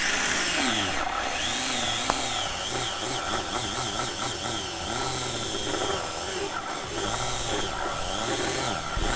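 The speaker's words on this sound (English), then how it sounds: "See how we're getting that sanded down?" A part from a Thunderjet 500 HO slot car is sanded flat, giving a continuous close grinding and whirring with rising and falling tones that runs without a break and has no speech over it.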